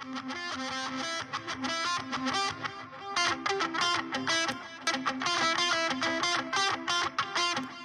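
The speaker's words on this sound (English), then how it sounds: "We have lead guitar on top of all that." A wet, reverb-heavy lead guitar in a rock mix plays fast distorted lines over a steady sustained backing, dense and continuous with a roomy wash throughout.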